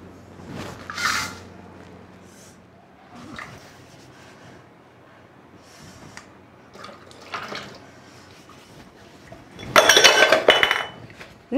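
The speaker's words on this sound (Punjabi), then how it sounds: "ਮੈਨੂੰ ਬਸ ਭਾਂਡੇ ਮਾਂਜਦੇ ਥੋੜੇ ਰਹਿ ਗਏ" Dishes and utensils being washed by hand in a home kitchen, with intermittent clinks and clatters of pots and cutlery, a short burst of louder clanking near the end, no talking.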